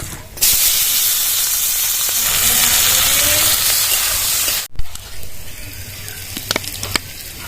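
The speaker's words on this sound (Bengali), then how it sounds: "তেজপাতা দুটো শুকনো লঙ্কা আর কালো জিরে ফোড়ন দিয়ে দিলাম" Bay leaves, two dried red chillies and nigella seeds crackle and hiss loudly as they hit hot oil for a pumpkin curry. The sizzle fills the first few seconds, then drops sharply to a quieter simmer with a few faint clicks.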